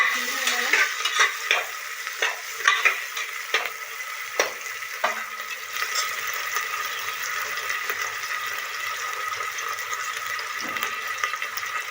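Tomato frying with browned onions and garlic in a pan for dal khichdi, a steady sizzle with scattered spoon scrapes and stirring clicks early on, settling into a continuous hiss.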